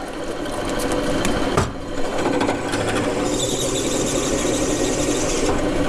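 Mini lathe cutting a chamfer on a metal workpiece, a steady close whirring motor drone with a high squealing cutting tone that grows stronger partway through, no talking.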